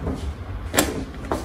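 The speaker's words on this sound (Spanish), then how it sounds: "tenéis que escuchar el clic para que veáis que queda bien ajustada" A Jané Groowy car seat carrier locks into its ProFix base with one sharp, close mechanical click in a quiet car interior, followed by a fainter second knock.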